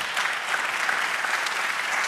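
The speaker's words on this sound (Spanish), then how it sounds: "Denle aplauso al Señor." Church congregation applauding during a sermon, a thick, steady roar of clapping from many hands filling the whole moment without a break.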